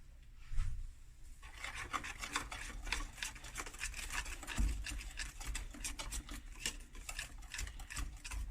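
Orange zest is folded into cake batter with a spoon, giving soft, repeated scraping and rubbing strokes against the bowl in a quiet kitchen.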